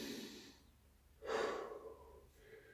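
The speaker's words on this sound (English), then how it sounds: "Take a nice big deep breath here." During a post-workout stretch with fingers linked behind the back and chest opened, a single slow, deep breath swells up, close and soft, in a quiet room.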